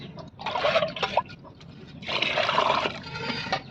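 Water pours into a cooking pot for goat leg soup in two splashy bursts with a short pause between, close by and moderately loud.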